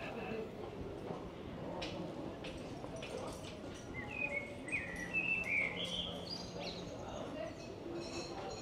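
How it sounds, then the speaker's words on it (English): Birds chirp and trill outdoors in Puerto de la Cruz, Tenerife, bright calls rising mid-clip over a steady street ambience with insect-like buzzing and faint background noise. "The birds are singing."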